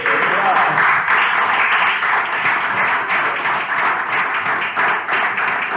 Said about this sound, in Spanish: No hace falta pedir un aplauso